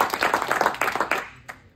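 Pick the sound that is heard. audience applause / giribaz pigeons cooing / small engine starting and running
audience applause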